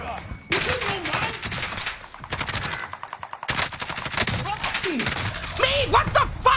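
Video game gunfire rattles in rapid automatic bursts, dense and loud, with brief gaps between volleys, while players shout excitedly over the shooting.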